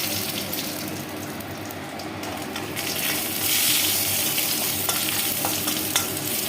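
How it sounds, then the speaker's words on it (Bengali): Cumin seeds, dried red chilli and a bay leaf sizzle steadily in hot oil for a moong dal tempering, with stirring noises that swell slightly in the second half; no talking. "আর এই তেলের মধ্যে দিয়ে দিলাম জিরে ফোড়ন, শুকনো লঙ্কা, আর হচ্ছে একটা তেজপাতা।"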